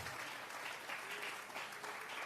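A church congregation gives steady applause as an offering of praise, a dense continuous patter of many hands clapping, fairly faint and even throughout.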